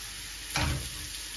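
Teasel gourd (kakrol) frying in oil gives a faint steady sizzle, with one short louder burst of spattering or stirring midway through, quiet overall and without talk.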